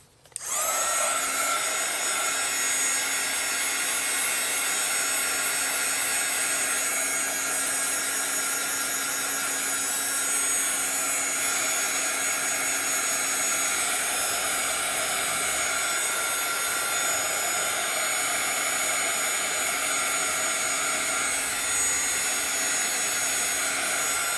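A heat tool drying paint on an art journal page, a steady loud whirring blow with a high whine that switches on and runs unbroken, alone without talk.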